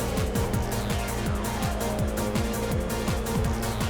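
Racing cars at Monza in a video game, engines screaming loud and close through rapid upshifts and downshifts on the run down to turn 1, with the whine of several cars layered together and no talk.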